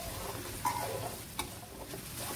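Food for aloo gobi (potato and cauliflower) sambal sizzles quietly in a pan with a steady frying hiss and a couple of brief stirring scrapes.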